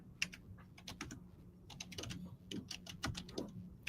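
Rapid, continuous clatter of a computer keyboard as someone types quickly, the dense irregular keystrokes coming close and steady for several seconds with no speech.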